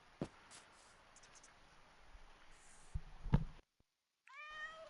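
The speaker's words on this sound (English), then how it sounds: "I like these kitty cats though. Meow meow meow." A cat in Minecraft meows once loudly and close by near the end of the clip, following soft scattered clicks and taps and a brief silent gap.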